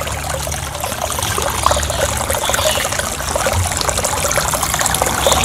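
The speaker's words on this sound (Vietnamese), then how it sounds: "Nó chạy xuống đây nó nghe cái tiếng động róc rách rất là im tai luôn" Water trickles steadily down an artificial painted rock fountain into a small basin, a continuous close, babbling flow with no talk.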